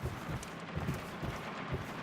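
Steady rain hisses across the whole moment in the stealth game Dishonored, a dense wash of falling water with faint low rumbles underneath, with no one speaking.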